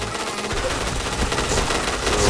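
Video game gunfire rattles in a rapid automatic stream, a dense run of shots that swells louder toward the end.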